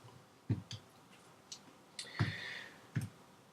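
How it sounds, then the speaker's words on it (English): Fractions are keyed into a calculator as a handful of sharp, isolated button clicks spaced irregularly. The clicks are close and fairly quiet, with a short electronic beep-like tone in the middle. "I'm going to have to type in each"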